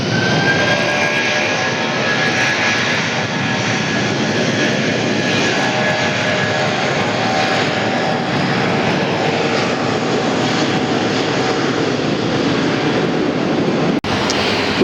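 Delta Airbus A320 in Northwest Airlines livery arriving at Atlanta airport from Little Rock. Its jet engines give a loud, steady, close roar that fills the whole stretch without letup, ending in a brief sharp click.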